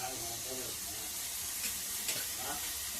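Mushroom curry masala fries in oil as a spoon stirs it: a continuous crackling sizzle with occasional scraping strokes against the pan. The sound is moderate in level and close.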